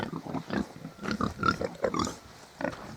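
Hungarian Mangalica pigs grunt in a close series of short, irregular bursts that overlap one another, with no talk over them.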